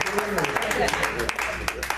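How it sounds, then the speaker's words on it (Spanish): A church congregation applauds during a sermon, a dense, steady patter of clapping running under a preacher's continuing voice. "denle un aplauso al Señor, hermano"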